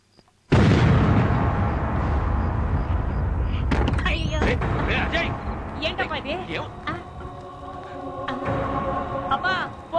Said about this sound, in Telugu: Police station blast bomb.